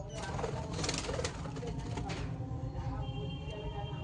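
Small pet birds, a white female and a blue male, call and coo nearby over a constant background hum, with brief scratchy rustling.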